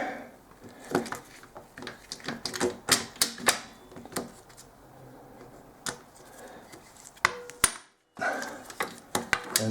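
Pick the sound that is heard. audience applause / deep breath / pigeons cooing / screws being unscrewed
screws being unscrewed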